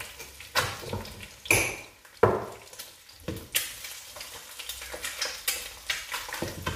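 Menemen eggs with pepper and paprika frying in a pan, with repeated scraping stirs over a steady close sizzle.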